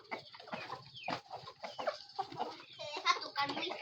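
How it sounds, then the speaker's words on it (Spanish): Farmyard rooster clucking close by in a rural setting, a run of short, choppy clucks and throaty chatter in quick irregular bursts, mixed with brief human voice sounds. "este es el gallo"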